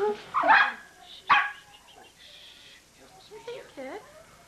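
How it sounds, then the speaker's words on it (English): A dog gives two sharp barks early on, followed by softer whining, yelping sounds. "You want to play with the dog? Don't bark."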